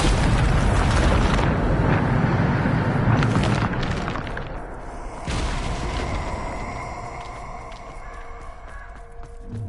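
A Bombarda spell detonates in Hogwarts Legacy as a loud, rumbling blast that fills the opening seconds, then a second sharp burst follows and fades into a softer ringing, magical tail.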